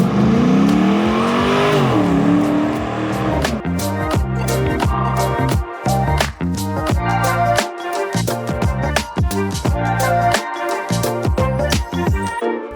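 A restored Land Rover Defender 110 with an LS3 V8 and six-speed automatic revs up loudly, then accelerates through a series of sharp shifts and throttle blips, close and aggressive with no talk.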